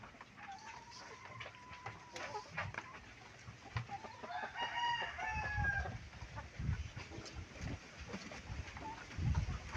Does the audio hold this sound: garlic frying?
no